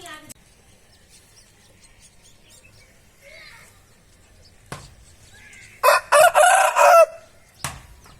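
A rooster crows once, loud and close, a long ragged call near the end after quiet stretches with faint talk and a few knocks.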